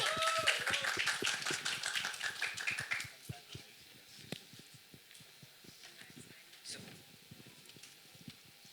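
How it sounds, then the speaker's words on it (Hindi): Applause greets the T-Series chairman as he comes on stage at a song launch event, brisk clapping mixed with music for about three seconds, then thinning to scattered claps and taps. "तालियां."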